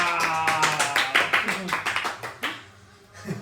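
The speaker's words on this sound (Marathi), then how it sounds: "म्हणजे यासाठी निलेश भाऊसाठी टाळ्या" A small group clapping for Nilesh, a burst of close, uneven hand claps with taps mixed among voices, fading out toward the end.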